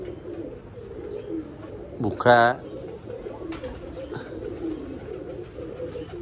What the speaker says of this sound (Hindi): देखिए ये भी कबूतर भूखा है यार, इसको भी दाना डाल देते हैं।